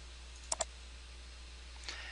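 Two quick computer mouse clicks land close together while stepping through a software installer, followed by a softer click a moment later, all faint and close up over a quiet room hum.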